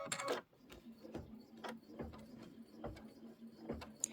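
A Kimberbell embroidery machine stitches quilting into fabric, producing a quiet, rhythmic series of mechanical thumps and whirs repeating roughly every half second.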